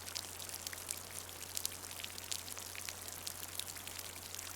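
Soft rain falls in a steady, fine crackling patter over a low constant hum, quiet and even throughout with no voices.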